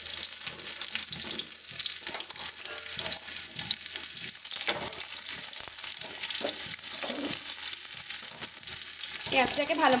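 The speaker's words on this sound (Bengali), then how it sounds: "এবার এর মধ্যে দিয়ে দিচ্ছি পেঁয়াজ ফোড়ন।" Sliced onion sizzling and frying in hot mustard oil in a pan, a steady close, loud crackling hiss throughout with occasional stirring scrapes and no talk.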